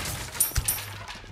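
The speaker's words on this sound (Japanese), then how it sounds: "ただなんかすっごい遠くから銃声が聞こえてくる感じになってる。" Distant gunfire in Resident Evil 4 Separate Ways, a few faint far-off shots popping over a low game ambience near a church.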